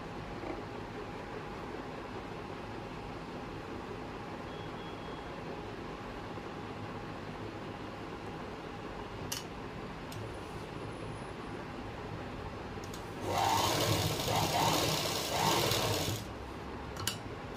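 An electric sewing machine stitches pant fabric in a short, loud burst of fast, even whirring near the end, after a long quiet stretch of low room hum and a few faint clicks.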